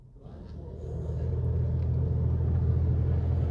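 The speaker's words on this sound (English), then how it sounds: "which blasts the underbody and the bottom of the car sills." Underbody wash jets in a touchless car wash in the UK blasting the bottom of a car, a low steady rumbling roar that swells up within the first second and then holds loud and constant.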